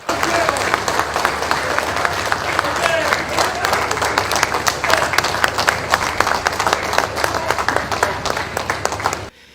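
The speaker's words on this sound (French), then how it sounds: "Lors de son entrée, le garant de la nation a eu droit à une standing ovation." Sustained standing ovation greets the Congolese president, Félix Tshisekedi, at a reception for national deputies: dense, steady clapping from a large seated hall fills the whole stretch at full volume, then cuts off abruptly near the end.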